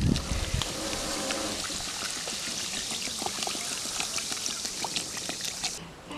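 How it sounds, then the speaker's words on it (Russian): Strongly carbonated mineral water is poured into a pot over finely chopped meat for shashlik, making a continuous fizzing, splashing trickle at close range that tapers off at the end. "заливаем сильно газированной минеральной водой на 20-30 минут."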